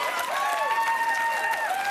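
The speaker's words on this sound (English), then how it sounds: "You ready for one more round of applause?" A studio audience claps during a late-night comedy show, broadband applause with a few cheers steady across the short stretch, dense and fairly close with faint tonal sweeps running underneath.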